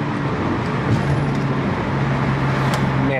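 An Audi S4 downshifting through its paddle shifter, the engine note swelling in a steady, close drone with a faint rev change partway, no talk over it.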